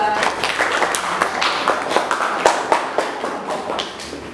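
A class claps for a student group during a teacher-training lesson in Yogyakarta, with scattered, uneven hand claps from a modest group of people, some sharp close claps standing out over a thin background of room noise.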